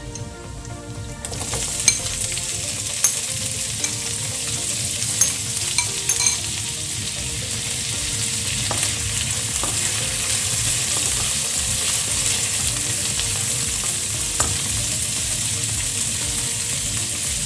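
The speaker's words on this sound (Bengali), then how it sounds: "পেঁয়াজগুলোকেও প্রায় 2 মিনিটের মতো চুলাটাকে বাড়িয়ে ভেজে নিতে হবে।" Chopped onions, cut large for vegetable fried rice, fry loudly in a hot pan, a steady dense sizzle with occasional stirring clicks throughout.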